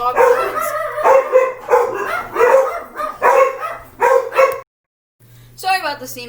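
A dog barks repeatedly and loudly at close range in quick bursts of yips and barks, breaking off into a short silence before a final whining yelp, over a faint steady hum.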